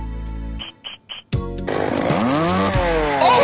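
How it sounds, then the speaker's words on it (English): A chainsaw revs in the video game Whack Your Ex, its loud, continuous buzzing motor rising in pitch and holding steady after a few short sputtering bursts. "a chainsaw"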